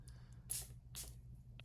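Caudalie Protection Sun Water sprays from a pump bottle in two or three quick, close hissing bursts separated by short pauses, with faint handling noise between them.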